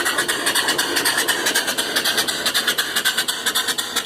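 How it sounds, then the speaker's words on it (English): A steam engine driving an electric generator chuffs in a fast, even rhythm of exhaust beats at close range, loud and steady with metallic hiss and no speech. "Steam engines aren't, you know, meant to run real fast."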